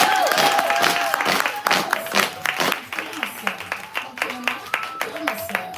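An audience at a live poetry event applauds a poet with a wash of clapping and cheering that settles into steady rhythmic claps, with voices heard over it.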